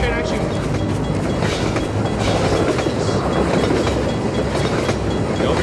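A train passing in Half-Life 2, a loud, continuous rumble with rhythmic clickety-clack of wheels and metallic rattling, close by, with a voice speaking over it.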